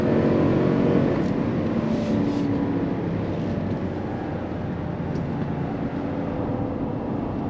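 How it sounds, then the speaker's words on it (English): GMC Yukon Denali Ultimate V8 engine while driving on a damp road, a steady deep rumble mixed with road and tyre noise, fairly quiet and constant. "Love the sound of that V8."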